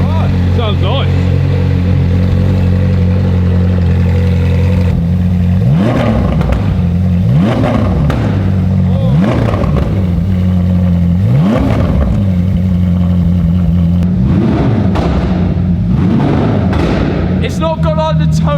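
A Ferrari 458 running without its back box revs repeatedly, about six sharp blips spaced a couple of seconds apart, each rising and dropping back to a deep, loud idle, with a brief faint voice at the end.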